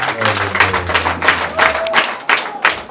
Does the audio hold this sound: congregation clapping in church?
yes